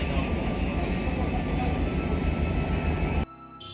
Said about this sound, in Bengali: একদম নির্ধারিত টাইমে আমাদের গাড়ি ছেড়ে দিল শিলিগুড়ি জংশন থেকে